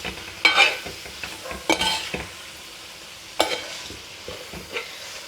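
Duck roast masala is stirred in a pan, giving a low steady sizzle broken by several sharp scraping strokes of the spoon against the pan, close up, with no talking.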